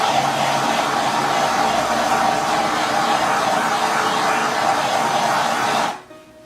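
A propane torch flame plays over an acrylic paint pour, a loud steady roaring hiss held close for about six seconds before cutting off abruptly into near silence.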